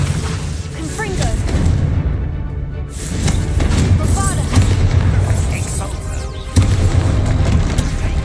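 Confringo spell explosions in the video game Hogwarts Legacy, loud booming blasts over a dense, continuous game soundscape with music and voices, a sharp burst near the end.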